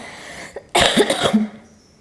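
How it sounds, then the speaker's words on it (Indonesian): A short fit of coughing from a woman who is unwell, a few harsh, close, rough bursts in quick succession followed by a brief throat sound, then quiet. "Maaf sekali saya batuk-batuk karena saya memang keadaan kurang sehat belakangan ini."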